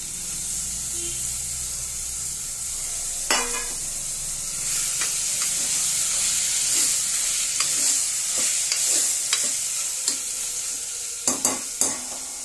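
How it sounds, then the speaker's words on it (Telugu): Tomatoes and curry leaves fry in a pan for beerakaya pappu, a steady close sizzle broken by a few sharp clinks and scrapes of stirring, with no talking. "అలాగే టమాటాలు కూడా వేసేసుకుంటున్నాం"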